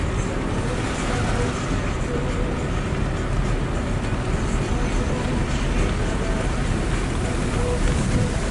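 Waves on the Pechora river beside a village, a steady broadband wash of water and wind noise buffeting the microphone, continuous and fairly loud throughout with no distinct breaks.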